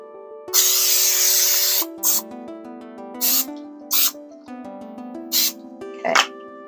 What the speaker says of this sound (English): But it says to spray it with non-stick spray.